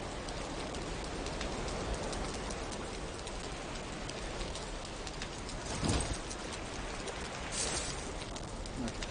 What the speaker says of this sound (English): see how it's raining already?